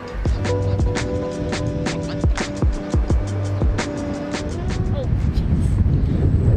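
Heavy wind in Wellington, New Zealand buffets the microphone with a constant low roar, punctuated by rhythmic metallic clanking and brief sharp ticks.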